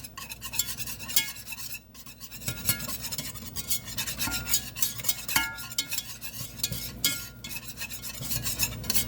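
A spoon scrapes and swirls through butter and roux in a pan, producing a continuous rasping stir with uneven strokes and light metallic scuffs, close and fairly quiet, with no voices.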